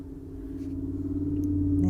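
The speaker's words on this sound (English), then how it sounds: "noisy cars going down the road" Cars drive down a nearby road, a low steady engine rumble with a pulsing hum that gradually grows louder as a vehicle approaches, heard on its own without talk.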